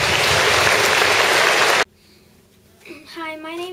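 Loud applause from a school assembly audience fills the first half, then cuts off abruptly to near silence before a voice begins speaking.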